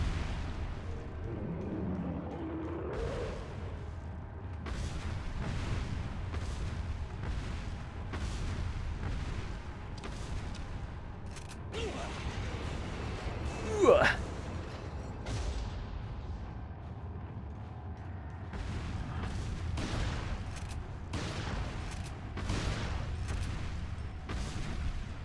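Repeated heavy booms from a shotgun in a Resident Evil game, spaced every second or two over a low steady rumble, with a few quieter stretches and no talk.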